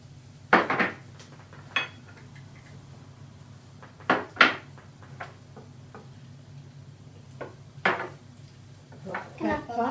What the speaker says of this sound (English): we're going to add in the spices, the ginger and the garlic, and Stan's going to keep stirring